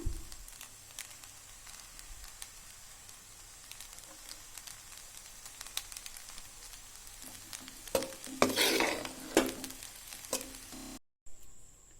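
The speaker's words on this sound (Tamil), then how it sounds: "மிக்ஸ் பண்ணி விடுங்க எல்லாத்தையும்" Carrot and bean fried rice is stirred in a pan with a little pepper, giving a quiet, soft scraping and faint sizzle that briefly grows busier near the end before cutting out.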